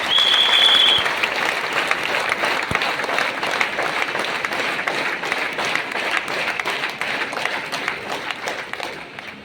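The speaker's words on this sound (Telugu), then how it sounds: "వీరందరికీ ఒకసారి బిగ్ క్లాప్స్" Audience applause at a business meeting, a dense, sustained wash of many hands clapping at steady loudness for several seconds, slowly thinning toward the end.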